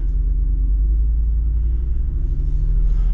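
Jeep Wrangler Rubicon 392 V8 rumbling low and steady off-road in first gear and four-low, a close, deep drone with no talk.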